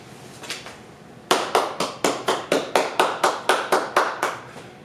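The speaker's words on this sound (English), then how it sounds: "stand up and clap your hands." A few scattered claps from a stand-up comedy crowd give way to a loud, even run of about a dozen sharp, rhythmic hand claps, close and punchy, with no talk heard.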